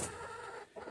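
Chickens in a coop give brief, low clucks and murmurs, close and a little muffled, with a short dip in the middle.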